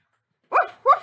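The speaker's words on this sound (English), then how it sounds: "Woof, woof, woof, woof." A dog gives two quick, close, sharp barks after a moment of silence, loud and alone with no talking.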